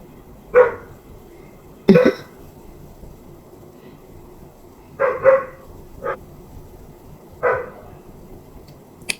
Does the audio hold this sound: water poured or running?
no